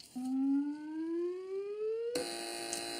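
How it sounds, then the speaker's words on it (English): A rising electronic tone sweeps upward for about two seconds, then a harsh, buzzing alarm tone cuts in and holds steadily to the end, during a television panel show quiz round. "Fingers on buzzers, teams."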